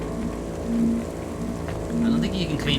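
Rain falling in the video game Cloudpunk, a steady soft patter under a low droning city hum, with faint tonal swells and no one talking.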